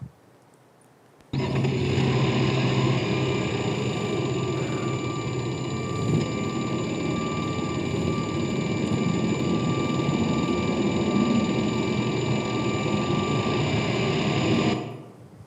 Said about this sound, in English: that little ticking noise is actually one of the major problems of engine